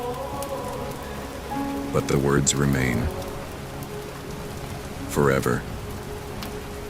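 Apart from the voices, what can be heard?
rain falling on ancient stones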